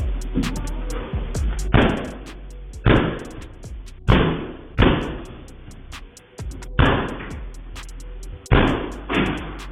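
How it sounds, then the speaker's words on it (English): A door is kicked in with about six heavy, booming slams at uneven intervals, each one a loud, close bang that decays quickly, with little else audible between them. "he's kicking the door in"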